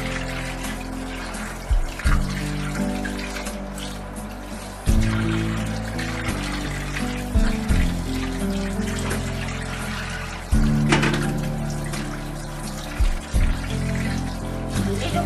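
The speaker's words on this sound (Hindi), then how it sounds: "उसको मैं आपके सामने धो रही हूँ, एक एक पीस हाथ में लेके अलग अलग करके।" Chicken pieces, including neck and rib pieces, are washed by hand in water, with continuous splashing and trickling broken by sharper clunks and knocks as the pieces are handled.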